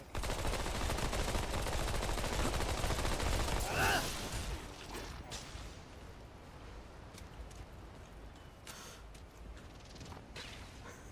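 Rapid bursts of video game gunfire, loud and dense at first, then cut off after about four seconds, leaving a quieter stretch with scattered faint shots and effects.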